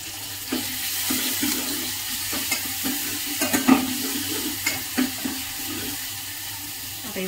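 Garlic, garam masala, turmeric, chilli powder, salt and cumin frying in a pan, a steady soft sizzle broken by repeated scraping stirs, close and alone with no talk.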